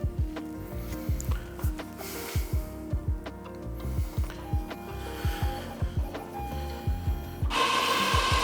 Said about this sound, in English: I'm gonna do one more short load ink or ink charge and a cleaning and then a nozzle check